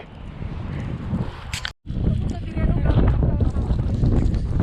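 Wind blows around a residential complex in Astana, Kazakhstan, during a spring blizzard, buffeting the microphone in rough gusts with a brief dropout midway.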